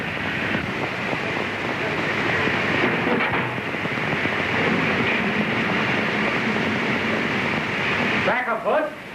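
A vacuum-operated turntable at a locomotive shed, powered by the engine itself, turns a heavy steam engine, giving a loud continuous rumbling, grinding drone with a steady hiss. A voice speaks over it near the end.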